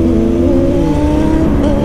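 A sport motorcycle engine revving hard during a city ride, a loud, steady, continuous drone with shifting harmonic tones throughout and no talking.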